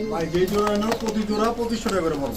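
Two pairs of large Danish pigeons cooing at a bird market, steady low coos under loud continuous chatter and speech close by.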